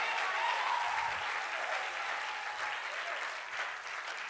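Church congregation applauding during a sermon, a dense steady roar of many hands clapping, loud and sustained throughout with faint voices mixed in.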